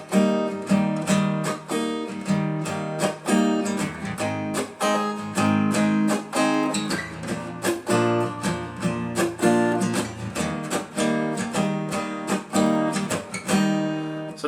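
Acoustic guitar repeating a strumming pattern with a muted down stroke, steady chord strokes with crisp percussive chops cycling through chord changes, played close and alone for several bars.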